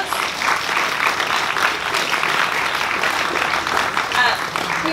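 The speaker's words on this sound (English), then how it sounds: "Let's give our supervisors and managers and everybody who nominated a round of applause." Audience applause at an intern awards ceremony, steady and full across the whole stretch, with many hands clapping together at an even, sustained level.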